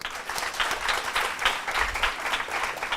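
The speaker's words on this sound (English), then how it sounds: "So in 3, 2, 1, can you guys clap?" A conference audience claps on cue, producing a loud, continuous burst of applause from a packed room that holds steady for about three seconds.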